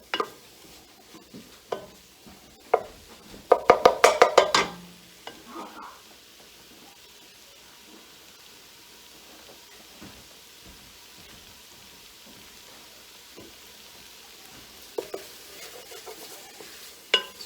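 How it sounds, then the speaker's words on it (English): Spices toasting in a dry pan while being stirred, a cluster of quick scraping clicks and taps early on, then sparse soft scrapes over a faint sizzle and quiet background. "heating up the spices without liquid toasts them a little"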